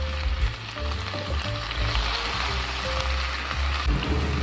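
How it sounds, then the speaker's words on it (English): Loud, steady sizzling of fish stir-frying in a hot pot, with scraping and stirring noises throughout and no speech. "Stir fry a few times and quickly pour the meat into the pot."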